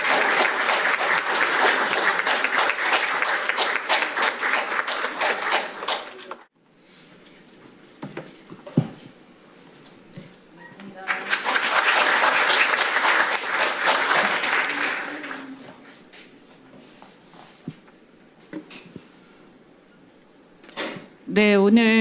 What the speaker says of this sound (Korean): 큰 박수로 환영해 주시기 부탁드립니다